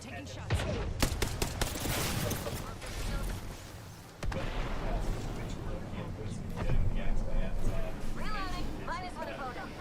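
Rapid bursts of gunfire from a video game match, dense and continuous with sharp transients, under steady game audio and a talking voice throughout.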